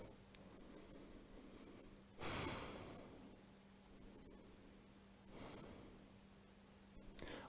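Slow, audible breathing while a yoga arm-balance pose is held, two louder rushing breaths standing out over a steady low hum and faint background hiss, fairly quiet and close.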